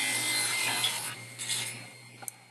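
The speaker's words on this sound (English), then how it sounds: "I raised my blade to the thickness, and I'll go ahead and cut these off." A table saw blade trims pieces of wood for a lathe steady rest fixture, giving a steady close buzzing rasp that fades out near the end, then a brief clack.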